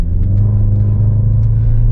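Lexus NX 300 turbo engine accelerating in normal mode, a steady, loud low-pitched rumble and drone from inside the cabin that holds evenly throughout with no one talking.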